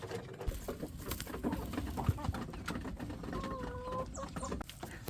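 Chickens, including Polish hens, clucking on a farm, with several close, intermittent clucks and a short drawn-out call over a busy background of scratching and pattering.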